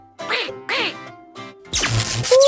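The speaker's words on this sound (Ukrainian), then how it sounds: "У, Кря-кря." A cartoon duck in a Ukrainian children's animated series quacks several times in short bursts, close and loud, with bright music and chimes swelling toward the end.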